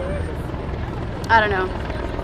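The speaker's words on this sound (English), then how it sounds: "there's another helicopter over there." A helicopter's rapid rotor chop thrums steadily in the background at a Cowboys vs Saints football game while a person briefly speaks.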